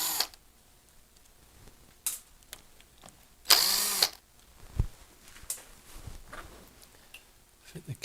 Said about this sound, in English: Now, take these two screws out.